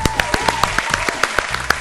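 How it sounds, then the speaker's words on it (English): Round of applause as a regular, evenly spaced clapping beat, about a dozen crisp claps over a sustained background tone. "That deserves a round of applause."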